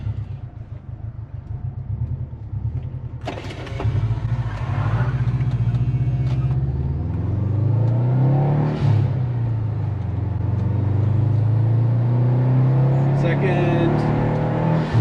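A daily-driven Subaru boxer engine with a modified exhaust rumbles at idle, then starts and revs up in rising, throaty surges, loud and close throughout, with people talking over it.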